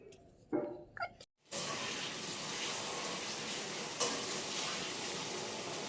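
Potatoes fry in a pan with a steady, broadband sizzle that runs continuously after a few short clattering knocks, with a brief louder crackle partway through.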